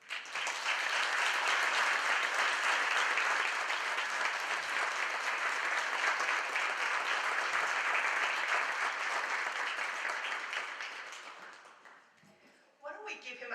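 An audience at a school district English learner conference applauds speaker Homero Magana with a loud, dense, sustained round of clapping that fades out after about eleven seconds, followed by a voice speaking.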